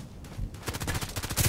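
Rapid bursts of automatic gunfire from a first-person shooter game, a rattling, fairly loud volley that builds in density toward the end after a quieter opening.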